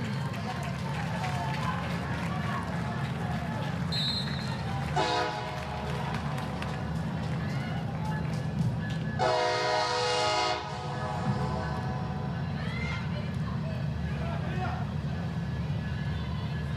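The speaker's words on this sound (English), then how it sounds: "train rolling through here" A train rumbles past near a 2023 ACC women's soccer match between Duke and Louisville, sounding two horn blasts, a short one and a longer one, under continuous play-by-play commentary and crowd ambience.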